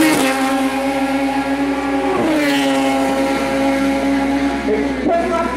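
A yellow Radical SR3 race car screams along a Trinidad street circuit, its high engine note rising and shifting, joined by other racing engines, loud and sustained throughout.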